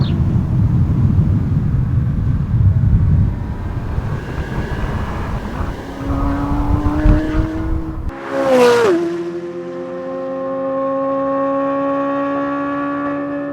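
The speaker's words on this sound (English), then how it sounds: "listen to this audio, Z06 on the track" Corvette Z06 race car on a track, engine roaring loudly with a broad rumble, then a brief sharp swell as it passes near, settling into a steady high-pitched sustained engine note.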